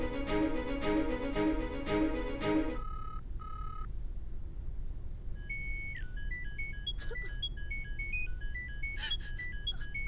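A telephone ringtone plays a melodic tune, then breaks off, followed by a sequence of electronic beeps and tones while the call waits unanswered, set over a low steady background hum.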